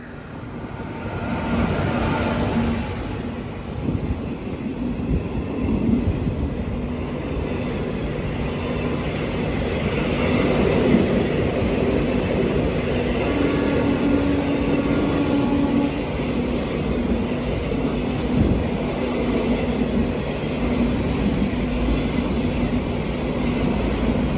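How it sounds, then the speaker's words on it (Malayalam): The Mumbai CST–Mangaluru superfast rolls past on the Konkan Railway near Sawantwadi Road, a steady, close, loud rumble of coaches on the track that holds for over twenty seconds without a break. "ഇതുവഴി വേറൊരു ട്രെയിൻ ഇതാ കടന്നു പോവുകയാണ്."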